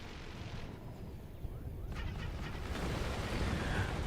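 Continuous low rumble of a video game battlefield with mortar and machine gun fire, where muffled distant explosions and scattered shots blend into a steady, slowly swelling roar.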